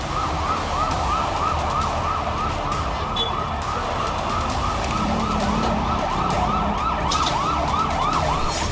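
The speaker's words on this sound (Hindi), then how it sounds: "बेरूत के दाहिया इलाके में सायरन गूंजने लगे, भीड़ जुटने लगी" Sirens wail continuously in overlapping rising and falling tones, loud and steady, over a low rumble of traffic in Beirut's Dahiyeh district.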